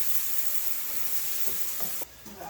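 Ground coriander paste sizzling slowly in a pan for coriander rice, a steady broadband hiss that holds close and even, then drops sharply near the end to a quieter sizzle with a few soft stirring clicks.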